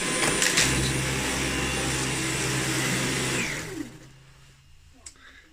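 A Dyson V11 Absolute cordless vacuum cleaner whines loudly and steadily up close, then winds down over about a second and stops, leaving near silence.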